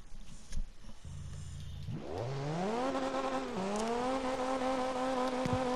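A Toyota Chaser (Mark II) JZX90 engine in CarX Drift Racing on PS4 idles low, then climbs into a strong, steady howl that rises in pitch, dips briefly at a shift and pulls hard again, loud and close.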